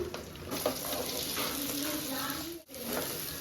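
Meal maker soya chunks frying in a pan for chicken noodles, giving a steady, close sizzle with faint stirring throughout and a brief dip near the end.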